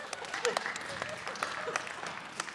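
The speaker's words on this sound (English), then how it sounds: "give them a round of applause." Audience applause at a comedy hypnosis show at a college, a steady wash of clapping from a crowd lasting a few seconds, moderately loud with a faint voice underneath.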